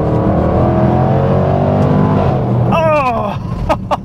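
A Jaguar F-Pace SVR in sport mode roars loudly and steadily under acceleration, then the engine note shifts with rising whines and sharp crackles near the end, heard close from the cabin.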